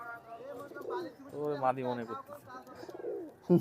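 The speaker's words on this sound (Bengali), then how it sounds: "যেটা ডাকতেছে এটা হচ্ছে চুয়া কবুতর" A chua pigeon gives low, throaty coos nearby, mixed in with someone talking over them, the calls coming in short bursts between and under the speech.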